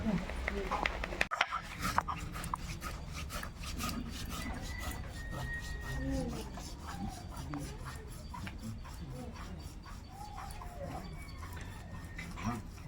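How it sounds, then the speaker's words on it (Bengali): Spices are ground on a grinding stone for a home-cooked dumur posto, giving a rapid, steady run of rasping strokes throughout, with quiet voices in the background. "মশলা তুমি বেটে নাও"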